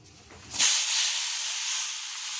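A sudden loud hiss erupts as thalipeeth dough made from bhajani flour hits a hot iron griddle, then settles into a steady bright sizzle.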